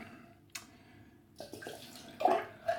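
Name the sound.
water being poured out of bowl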